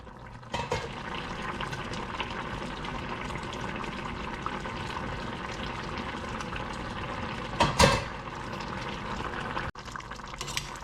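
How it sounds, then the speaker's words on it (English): Okra and shrimp curry simmers in a covered pot, a steady close bubbling hiss that runs throughout, swells briefly near the end and then drops away. "Close the lid and let it cook just until the okra gets soft."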